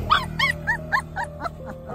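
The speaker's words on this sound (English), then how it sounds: "The dog was likely injured, as it was crying when the people tried to move the pipe." A scared puppy stuck between two pipes cries in a rapid series of about eight high, sharp yelps and whimpers, close and loud, spaced in an uneven rhythm over a low background hum.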